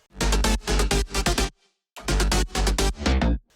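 Layered synth basses, leads and chords from an electronic track play together in loud rhythmic bursts with a brief silent gap in the middle, no voices.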